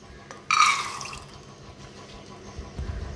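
Water pours into a pressure cooker over a cup of overnight-soaked black chana, a short splashing burst near the start that settles into a quiet trickle.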